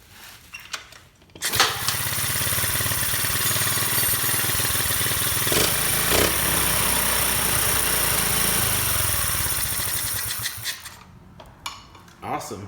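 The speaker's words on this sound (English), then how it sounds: "start the bike just to make sure that it does" A Honda Z50R motorcycle, just fitted with a lighting stator, sputters to life after a brief cranking attempt and then settles into a steady, buzzing idle for several seconds before cutting off.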